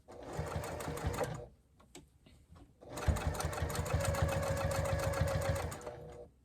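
A sewing machine top-stitches around the edge of a fabric microwaveable bowl cozy at an eighth-inch seam allowance, running in a steady close whir, pausing briefly while the presser foot is lifted, then resuming in a longer continuous run.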